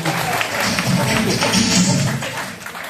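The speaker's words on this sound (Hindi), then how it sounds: "जोरदार तालियां, जोरदार तालियां साथियों" Loud applause from a training-session audience in a hall, a dense wash of many hands clapping together, steady and sustained with a slight swell before easing off at the end.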